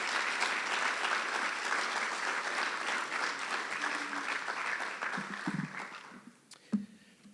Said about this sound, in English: So please join me in another round of applause thanking all of our coaches on such a great year